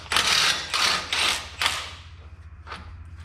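A fan blade held still with clamped vice grips is worked loose from a car engine's pulley: four short bursts of ratcheting, then a single brief click, fairly close.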